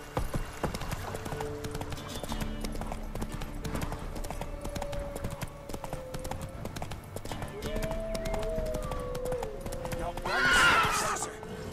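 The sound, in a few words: horse galloping in video game The Witcher 3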